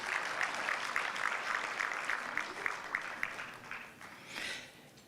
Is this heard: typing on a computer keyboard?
no